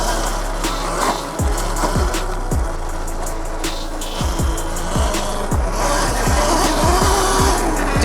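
Riding a Qronge X1 Spark M e-bike produces steady, rough rolling noise with wind rush. Repeated thuds and rattles come from bumps along the trail, and no one talks.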